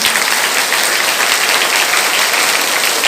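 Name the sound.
children applauding doctors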